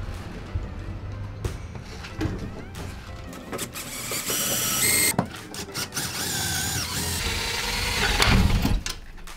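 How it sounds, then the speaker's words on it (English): An electric drill bores out metal inside a Citroen Relay L4H2 van during a camper conversion strip-out, a whining grinding drone that rises and strains in bursts, loud and close. "And now I'm going to try to drill it out and see what happens."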